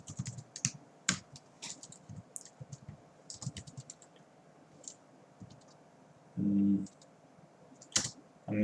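Keys clicking on a computer keyboard with an Estonian layout while coding, with quiet irregular bursts of taps, some louder strokes, and a brief low thump partway through.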